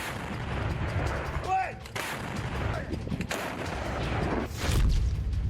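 Artillery fire and explosions from Russian attacks on Ukraine, heard as repeated broadband booms and blasts over a dense rumbling background, fairly loud and continuous throughout.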